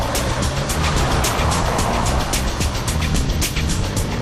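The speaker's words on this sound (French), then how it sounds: "aller à fond en ligne droite avant de braquer à gauche ou à droite aussi brusquement que possible" A Citroën 2CV runs flat out in a straight line and then swerves hard, giving a loud, close, continuous engine and road roar with a steady rhythmic pulsing.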